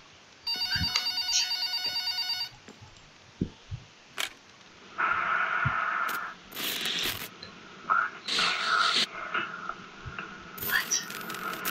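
An old-fashioned telephone rings electronically in a horror video game set in a house, with a burst of repeated bell-like tones at the start, followed by mechanical clicks, thumps and ratcheting game sounds.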